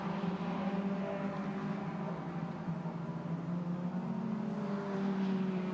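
Honda Civic Cup race cars at Silverstone drone steadily at a distance, their engine notes blending into one continuous, even roar.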